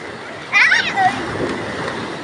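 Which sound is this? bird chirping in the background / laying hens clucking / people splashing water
people splashing water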